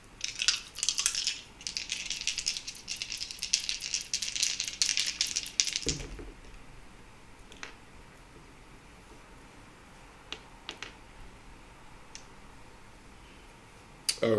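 Three dice shaken hard in a cupped hand, giving a busy, close rattle for several seconds, then a single knock as they are thrown, followed by near quiet with a few faint clicks.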